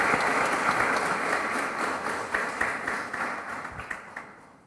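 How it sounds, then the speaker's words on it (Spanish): An audience at a criminal-law plenary session applauds a professor: a steady, full wash of clapping from many hands that holds, then gradually thins and fades out. "Aplausos para él."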